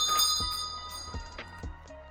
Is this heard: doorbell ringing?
yes